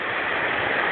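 Hot spring water from Kendall's spring pouring into a river in Bridger National Forest, a steady, dense rushing flow close by, loud and unbroken with no voices.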